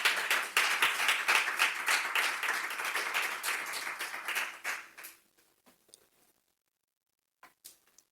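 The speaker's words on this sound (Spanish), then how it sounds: "dale un aplauso al Señor" A church congregation applauds with dense, loud clapping for several seconds. The clapping thins and fades out, leaving scattered last claps and then near silence.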